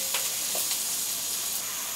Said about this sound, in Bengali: পেঁয়াজটাকে হালকা একটু আমি ব্রাউন করে ভেজে নিলাম